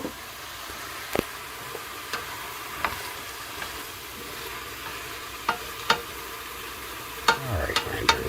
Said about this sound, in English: We'll just put some salt and pepper, rock salt, and the ground black pepper on the vegetables as I'm sauteing them.